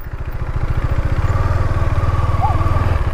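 A motorcycle engine runs steadily close by with a low, rapid pulsing throb and some mechanical clatter, held at a constant idle-to-low rev level for the whole stretch, with no talking.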